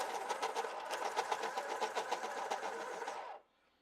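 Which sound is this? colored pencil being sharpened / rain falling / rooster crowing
colored pencil being sharpened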